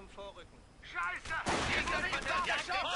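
Sniper gunfire in the Company of Heroes World War II strategy game, a sharp loud shot followed by a dense burst of battle noise and further reports, with a voice talking over part of it.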